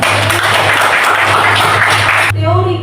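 A classroom of students claps together in dense, steady applause for about two seconds, close and loud, before it cuts off abruptly and a voice starts speaking.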